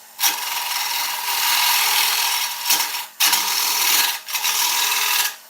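Gentle rubbing scrape of a lathe tool working the rim of a spinning oak bowl, three steady passes with short breaks between them, close and fairly loud with no talk.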